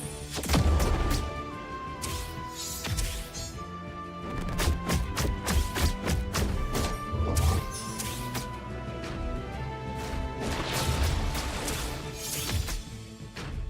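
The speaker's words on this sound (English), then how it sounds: "And explosion!" Explosion and impact effects from the video game Aethermancer, a busy run of sharp crashes and thuds layered over tonal game music and chimes, continuous and fairly loud throughout.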